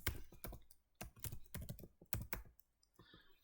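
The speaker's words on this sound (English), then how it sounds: "Then I type here load command." Quick, close, clicky keystrokes on a computer keyboard as a command is typed, in an irregular rhythm of short taps, quiet and otherwise silent.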